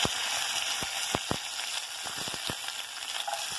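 Urad dal, chana dal and dried red chilies sizzle in hot oil, a steady bright frying hiss with scattered sharp pops and crackles throughout, close and continuous, no voices.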